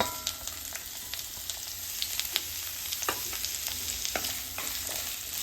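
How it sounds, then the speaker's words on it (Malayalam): Shallots and vegetables being sautéed for sambar, a soft constant sizzle with repeated stirring scrapes in the pan, fairly quiet and close, no talk. "ഇതിലെല്ലാ പച്ചക്കറികളും ഇട്ടിട്ട് നന്നായിട്ട് വഴറ്റാം"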